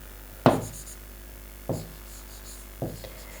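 Chalk or marker strokes on a classroom board, three separate short scraping taps spaced about a second apart, quiet and close, with no talking over them.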